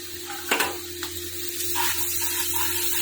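Green chillies and spices hit hot oil in a pan for paneer bhurji, a steady sizzle with a couple of sharp spits and scrapes near the start, no voices.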